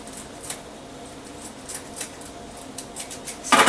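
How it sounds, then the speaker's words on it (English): Scissors make a series of short, faint crisp snips through burlap for a wreath, spaced irregularly. A louder rustling burst comes right at the end. "snip my burlap"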